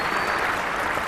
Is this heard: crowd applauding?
yes